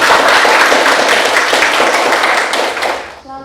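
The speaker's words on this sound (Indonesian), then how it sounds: "Beri tepuk tangan untuk kelompok satu." Classmates in a high school biology class clap for group one, a dense burst of close applause that fades out at the end.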